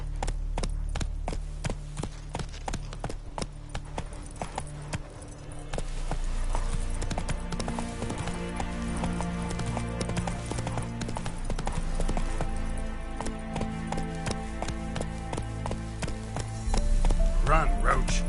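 Roach, the horse in The Witcher 3: Wild Hunt video game, gallops with a steady, rapid clip-clop of hooves, close and continuous throughout, over a background of other game sounds with occasional voice.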